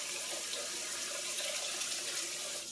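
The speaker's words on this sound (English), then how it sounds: "Let me rinse my fingers." Kitchen tap water runs steadily into a sink as fingers are rinsed while cooking meatballs, a constant soft splashing hiss without talk.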